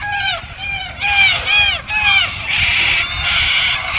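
Seabirds call loudly at a beach foreshore in Rockingham, harsh repeated squawks in quick bursts close by, overlapping with a wash of surf or wind.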